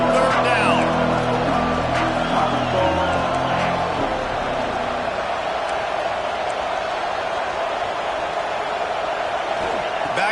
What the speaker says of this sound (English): Crowd getting this defense whipped up on third down